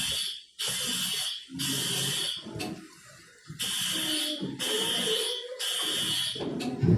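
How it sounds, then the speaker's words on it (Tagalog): A building fire alarm sounds in repeated loud bursts of high, harsh tone, about five pulses separated by short gaps, with low background noise between them. "Yan po yung sound ng ating fire alarm."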